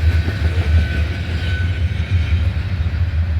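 Freight train cars roll past on the railroad through Abbeville, a loud, close, continuous rumble with a low steady drone and faint rhythmic clatter of wheels, no voices.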